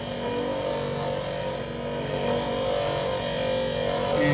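Lapidary polishing machine working blue onyx at its last, finest grit, a steady broadband whir with a low motor hum running continuously and fairly loud throughout.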